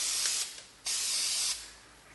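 Black spray paint hisses from an aerosol can onto a vase in two steady bursts, each lasting roughly half a second or more, close and fairly loud with a short pause between them.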